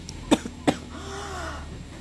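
Two short coughs about a third of a second apart from a person at close range, followed by a quiet room with faint low hum.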